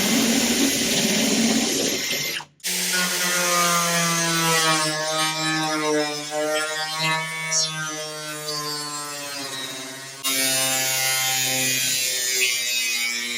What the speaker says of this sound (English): Now I'm going to be using a step drill, and that means I can get a nice good sized hole.